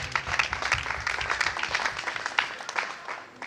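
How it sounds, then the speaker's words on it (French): Moderately distant applause from an audience at a school integration ceremony, a steady crackle of many hands tapering off over a few seconds. "elle mérite quand même d'applaudissements"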